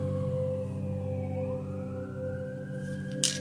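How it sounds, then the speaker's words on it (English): Sirens wail at a distance, one tone sliding down and then rising and holding, over a steady low hum of background noise. "You hear the sirens?"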